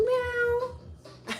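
A voice imitates a cat's meow, a drawn-out tonal mew of about a second that rises and falls, then a short breathy follow-up sound, close and clear.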